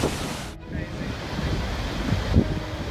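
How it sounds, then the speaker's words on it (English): Heavy storm surf pounding a shoreline in a steady, loud wash of broadband roar, with wind buffeting the microphone and a couple of brief low thumps near the end. "Massive waves crashed into the shore"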